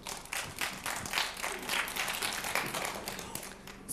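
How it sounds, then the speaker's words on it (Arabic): A group of children claps for a boy named Mohamed on a children's environment-day program, a brisk round of many small hands with distinct claps standing out, close and lively. "تصفيق على محمد"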